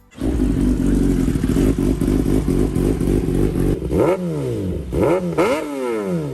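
Kawasaki ZX-10R and Yamaha R1 superbikes fitted with full racing exhausts, one holding a loud, rough, rapid-firing idle before sharp rising and falling revs blast out close by.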